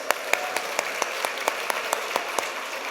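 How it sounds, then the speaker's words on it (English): Applause from an audience at an awards gala in Toronto for a singer, steady clapping with regular sharp accents, moderately close, no talking over it. "Megan, can we just have a round of applause for her beautiful voice?"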